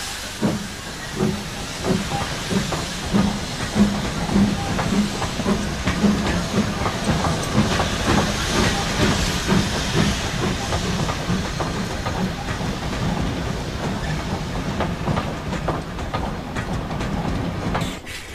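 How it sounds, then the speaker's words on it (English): A Great Western Manor class 4-6-0 steam locomotive, Goodrich Castle, pulls a Hereford-bound train away from the station, with continuous loud chuffing, steam hiss and rattling carriages that hold steady for the full length. "Goodrich Castle heads west from the station with a Hereford-bound train."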